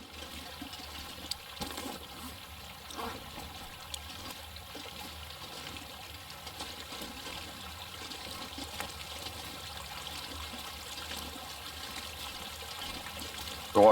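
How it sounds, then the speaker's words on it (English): Water flows and trickles inside a cave in the survival game The Long Dark, a quiet, steady babbling stream with faint drips, and a brief louder burst at the very end. "The water sounds louder over here than where I just walked through."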